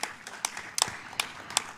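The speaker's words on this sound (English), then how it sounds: "A round of applause for our panelists" A small conference audience claps for the panelists, a handful of sparse, uneven hand claps scattered across a couple of seconds, fairly quiet and close.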